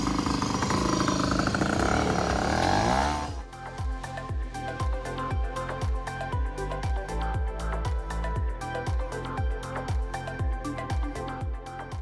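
A small rented scooter rides to the ferry on the Aeolian island of Lipari, Sicily. A loud rush of engine and wind opens the ride, then settles into a steady putter with a regular rhythmic clatter that continues throughout.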